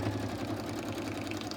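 A sewing machine stitches through fabric scraps with a continuous, even mechanical whir close by, the motor droning steadily without pause.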